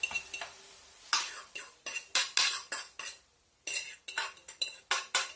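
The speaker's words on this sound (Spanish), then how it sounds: "Y la voy a apartar ya en un platito." Fried peppers, cooked soft in a frying pan, scraped and lifted onto a small plate with a utensil, giving a string of close, sharp metallic scrapes and clinks in irregular bursts, with no talking.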